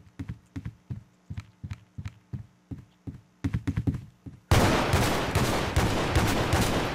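Gunfire in Garry's Mod sandbox game: a rhythmic string of sharp single shots, then a faster burst, followed by a loud continuous wash of noise, close and prominent.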